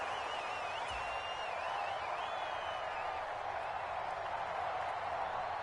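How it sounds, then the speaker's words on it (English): A stadium crowd in a Madden football video game keeps up a steady, roaring wash of cheering and noise, loud and sustained without breaks, with a few higher whistle-like tones rising above it. "This crowd turning up the decibel level."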